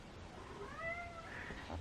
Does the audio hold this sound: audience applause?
no